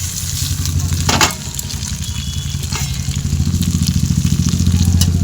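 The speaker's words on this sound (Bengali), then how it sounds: "মশলাটাকে ভালো করে ভেজে নেব" Masala spices frying in a pan for chicken kosha, a steady loud sizzle with a continuous low rumble underneath and occasional brief clatters, no talking.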